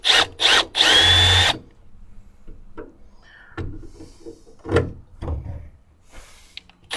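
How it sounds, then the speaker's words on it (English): A power drill fitted with a step bit whines in three bursts, the last one longest, while cutting a hole during a BAKFlip MX4 hard bed cover install, followed by quieter handling clatter. "drill a hole that's just about the size of this. That way it stays in there a little better and doesn't kind of flop around"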